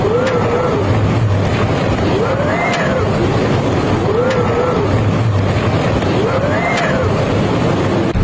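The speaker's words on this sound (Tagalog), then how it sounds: "Nagngangalit ang ulan, pati na ang hangin." Typhoon wind and rain roar loudly and continuously with heavy rushing noise, and a whistling tone rises and falls every couple of seconds.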